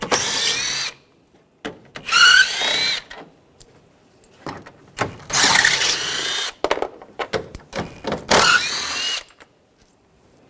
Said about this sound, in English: I'm going to use a 10mm socket,